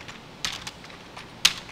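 Keyboard keys pressed for copy-and-paste shortcuts while building an HMI screen on a computer: two sharp, close clicks about a second apart, with a few softer taps between them in a quiet room.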